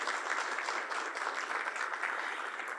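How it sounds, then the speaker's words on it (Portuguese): Audience clapping for Ronaldo at a solar energy storage opening ceremony, a steady, even burst of applause throughout, moderately loud with no voices over it. "eu peço uma salva de palmas para o Ronaldo"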